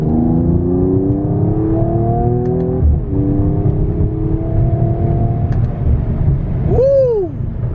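A 2020 Mercedes-Benz CLS 53 AMG accelerates hard with paddle shifts, its close, loud engine tone climbing steadily, dropping at a gearshift, then rising again. A quick squeak or whine sounds near the end.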